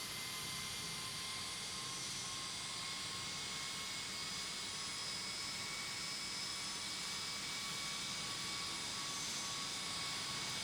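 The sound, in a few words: Southwest jet taking off from runway 28 left, from Tower! Simulator video game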